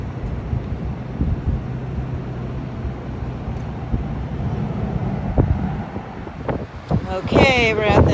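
Steady wind roars and buffets the microphone in a low, continuous rush at a beach, with a few faint higher chirps near the end.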